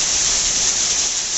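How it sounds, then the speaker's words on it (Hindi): Heavy rain with hail pours down in a steady, dense hiss, loud and close, with no voices over it. "आप लोग अंदाजा लगा सकते हो कितनी तगड़ी बारिश हुई"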